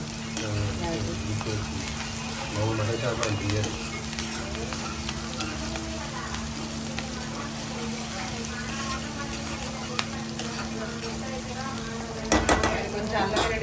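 Mutton with spices is stirred in a hot pan, a steady sizzle and fry with occasional spoon scrapes and clinks against the metal, a louder clatter near the end, with a voice speaking in the background.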